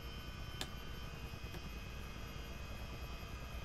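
A CH-47 Chinook tandem-rotor helicopter flying in Microsoft Flight Simulator gives a steady, continuous engine and rotor drone at even level, with a couple of brief clicks and no talk.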